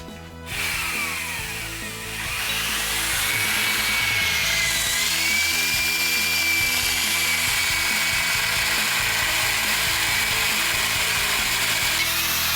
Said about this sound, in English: if we have our tubing and our hole saw aligned with the teeth at our mark that we've made, then we will have a clean notch